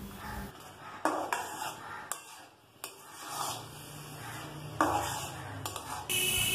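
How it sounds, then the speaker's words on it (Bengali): Grated coconut and jaggery are being stirred in a pan over low to medium gas heat for coconut laddu, with a spoon scraping and rubbing against the metal and occasional sharp clinks between quieter stretches. "আমি সমানে এটা নাড়তে থাকব যতক্ষণ না এটা ঠিকঠাক মতন পাক ধরে"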